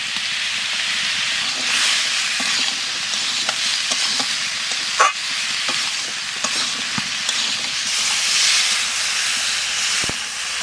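Squash sizzling and frying with spices in a hot pan, a steady loud hiss broken by occasional scrapes and clicks of stirring.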